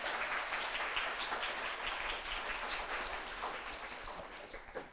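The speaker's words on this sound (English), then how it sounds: "Let's give him another clap." Steady applause from a crowd, many hands clapping together without pause for several seconds, with no voices on top.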